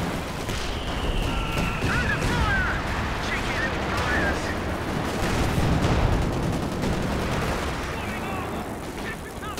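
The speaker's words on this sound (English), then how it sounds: "Got the mortar pit still firing though" A mortar pit in Company of Heroes 2 fires a barrage during a 2v2 match, with dense overlapping thumps and blasts rolling continuously among other battle noise, while a commentator talks over it.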